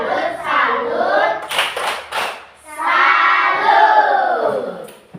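A class of children performs a rhythmic clapping chant together, bursts of hand claps alternating with loud group chanting, close and lively.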